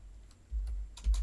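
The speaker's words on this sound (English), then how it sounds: "I'm going to type that out again" Brief bursts of typing on a computer keyboard, a few quiet clustered keystrokes close by, with no voice.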